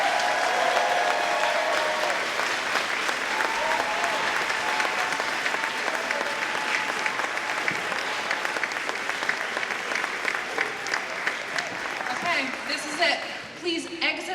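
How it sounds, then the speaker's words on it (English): A school audience applauds a graduating lower school class at a June celebration, with steady, dense clapping from a large crowd lasting throughout and tapering slightly near the end. "Let's give them a round of applause."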